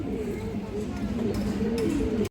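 Red chulli pigeons coo continuously nearby, a dense, warm burbling drone with a voice talking over it.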